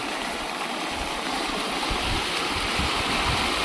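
Floodwater from a record downpour pours across farm fields with a loud, continuous rushing and gurgling, close by and steady throughout, without talk.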